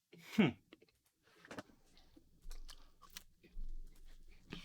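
Close, quiet chewing and crunchy bites of cheesy garlic bread and Cottage Inn pizza, with a few separate crisp bites and soft mouth noises spread over several seconds.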